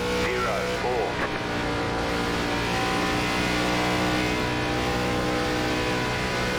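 A NASCAR Gen4 race car engine revs in iRacing at Darlington Raceway, a loud, steady drone whose pitch rises and falls as the throttle works, with the tires spun up, running continuously throughout.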